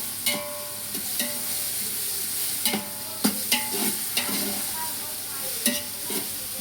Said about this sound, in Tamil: அப்போ வெங்காயத்தை நல்லா வதக்கிங்க.